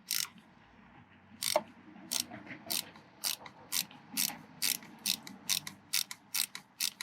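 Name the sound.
wrench tightening Nissan Pathfinder battery terminals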